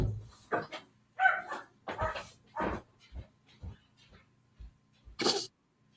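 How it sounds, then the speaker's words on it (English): A house dog barks several times in short separate bursts, fairly close and moderately loud in a quiet room, with small human throat sounds between the barks. "I got to let this dog in this barking."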